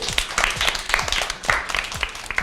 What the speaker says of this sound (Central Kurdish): یەک چەپڵەی بەهێز بۆ خۆ